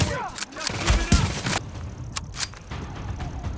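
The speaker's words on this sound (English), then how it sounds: "Who the hell are they shooting at?" Gunfire in the video game The Division, a rapid burst of shots followed by scattered single cracks, mixed with in-game noise and a voice talking.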